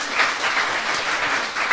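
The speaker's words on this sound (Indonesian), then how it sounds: "Beri tepuk tangan buat Tuhan" A church congregation applauds during a worship sermon, a steady wash of many hands clapping together at close range, filling the space evenly with no voices over it.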